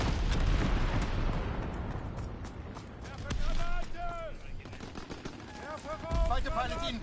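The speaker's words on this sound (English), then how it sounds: "Fighter pilot inbound, strafing the target." A fighter plane strafes targets in a war video game, rapid machine-gun fire rattling in dense loud bursts amid explosions and a radio-style voice announcing the attack, with shrill whistling tones rising near the end.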